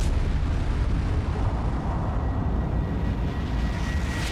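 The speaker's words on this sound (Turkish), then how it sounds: "Büyük patlama." A deep, sustained explosion rumble meant to depict the Big Bang, a loud, dense low roar holding steady for the whole span with no voices over it.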